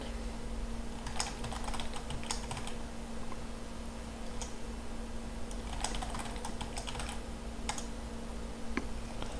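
Continuous typing on a computer keyboard while entering an email address and a password, with steady clustered key clicks and small pauses over a constant background hum, nobody speaking.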